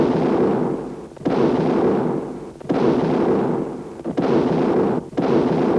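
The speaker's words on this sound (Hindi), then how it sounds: "21 तोपों की सलामी दी।" Cannon fired in a 21-gun salute at the Red Fort in Delhi, four heavy booms about a second apart, each followed by a rolling rumble that decays before the next shot.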